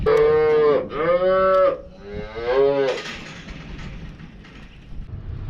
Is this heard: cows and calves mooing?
yes